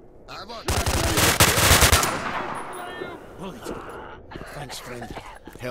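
A loud burst of rapid automatic gunfire rattles for about a second in the video game STALKER: Shadow of Chernobyl, then fades into quieter ambience with a voice speaking over the scene.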